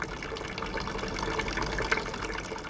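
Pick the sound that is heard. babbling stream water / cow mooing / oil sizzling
babbling stream water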